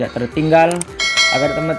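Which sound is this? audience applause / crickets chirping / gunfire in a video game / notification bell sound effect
notification bell sound effect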